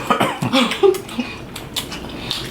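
A single cough provoked by strong onion fumes while fish and onions fry at home, a short close burst followed by quieter kitchen noise and faint clinks.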